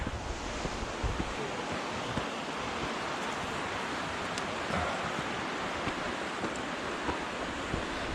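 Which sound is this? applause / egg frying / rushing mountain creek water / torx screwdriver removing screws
rushing mountain creek water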